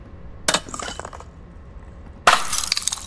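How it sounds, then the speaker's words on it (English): Two bursts of breaking glass, a bottle smashing with sharp crashes and tinkling shards, the second louder and longer. "And so whether it's for a bottle smashing,"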